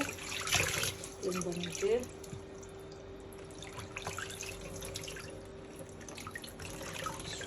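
Food being washed under running water in a kitchen sink, with a steady trickle and drips alongside someone speaking Tamil over the first seconds.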